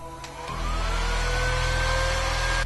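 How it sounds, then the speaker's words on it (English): A hair dryer switches on and blows with a steady, whining whoosh, drying stippling on a haunt prop, staying loud and constant close by. "We're going to go ahead and use a hair dryer to speed up the drying process of the stippling."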